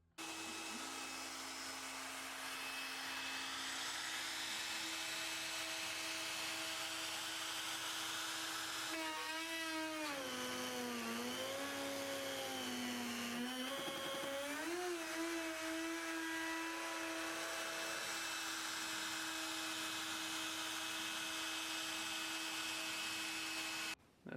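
CNC router cutting with a 60-degree V-bit, a loud continuous high whine whose pitch wavers and sweeps up and down in the middle of the cut before settling back to a steady tone, no talking.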